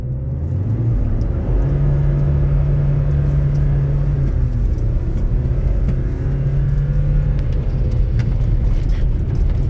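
A pickup truck launches in two-wheel drive on a dirt surface, wheels spinning as the engine drones and rumbles continuously, loud and close, with no talking.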